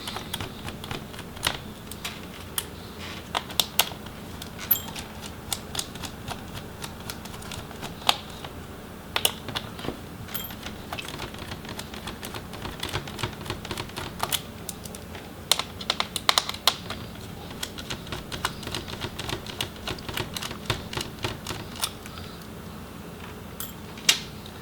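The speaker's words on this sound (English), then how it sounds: "we can go ahead and remove the remaining screws for the hinges" Hinge screws being removed from an HP Omen 17 laptop during disassembly, a long run of small sharp clicks and ticks, sometimes in quick clusters, close and fairly quiet over a faint background hiss.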